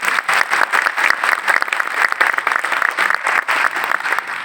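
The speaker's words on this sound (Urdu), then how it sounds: "تالی اگر بجانی ہے بھرپور بجا دیں ورنہ رہنے دیں۔" Dense, loud audience applause fills a hall at the Alhamra Arts Council in Lahore during a first death-anniversary tribute to broadcaster Tariq Aziz, with many hands clapping steadily throughout.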